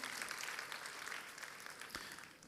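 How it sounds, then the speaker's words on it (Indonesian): A congregation gives a short round of applause during a church service, a soft, even wash of many hands clapping that thins and fades near the end, fairly distant. "Bisa kita berikan tepuk tangan buat Tuhan kita."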